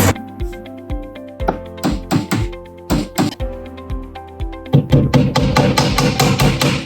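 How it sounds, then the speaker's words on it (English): A hammer drives nails back into a mahogany dresser with sharp, close taps, spaced strikes at first, then a fast run of quick blows near the end. "let's see how nailing these back in goes"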